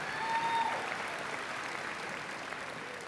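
Sustained applause from a graduation ceremony audience for the class of 2019, a steady dense wash of clapping at even volume throughout with no voices over it.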